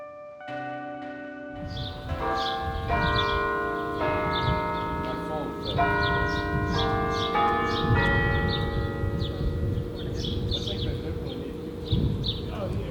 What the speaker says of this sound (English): after 30 years, the bells are ringing once again